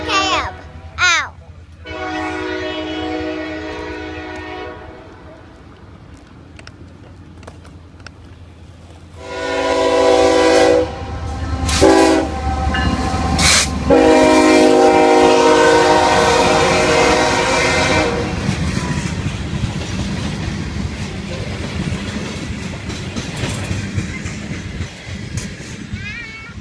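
A CSX or Amtrak train in Florida sounds its horn in several long blasts, then rumbles past with rolling wheel and car noise; a voice speaks briefly near the start.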